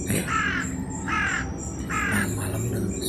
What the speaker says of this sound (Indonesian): ada suara seperti burung gagak